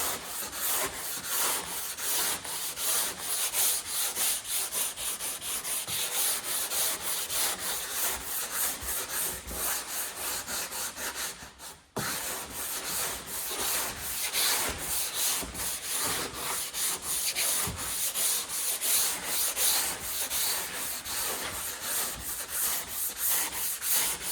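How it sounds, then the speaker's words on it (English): Steady, continuous wet sanding by hand of high-build primer on a 1971 Corvette body, a rhythmic back-and-forth scrubbing that fills the whole stretch, with one brief pause partway through. "you can even hear it as you go across places that are smooth, how it starts getting quieter when you're sanding"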